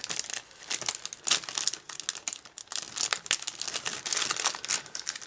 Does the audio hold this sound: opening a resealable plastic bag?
yes